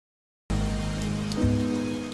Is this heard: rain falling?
yes